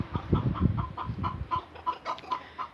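Cochin hens cluck in a rhythmic series of short, close calls in a muddy outdoor chicken run, with soft low scratching noises between them.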